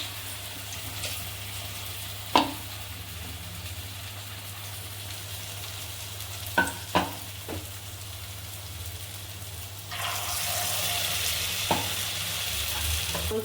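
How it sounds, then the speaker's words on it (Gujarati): Farali gota balls deep-fry in a medium amount of oil in a nonstick pan over a low flame, giving a steady sizzle with occasional utensil clicks that grows louder and brighter toward the end. "નોનસ્ટિકમાં આ રીતે જ તમારે તળવાનું છે"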